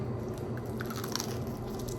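Close-up crunchy bites and chewing of sweet coconut bars with crisp edges, several small crackling crunches over a steady background hum, no talking.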